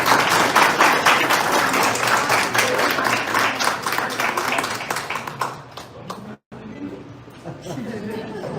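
Applause from the audience at a literary academy ceremony, loud and dense at first with individual claps audible, then thinning out with a brief pause before scattered clapping and murmuring return.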